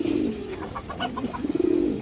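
A pet pigeon coos close by, a low rolling coo that swells and repeats across the moment, with no talk over it.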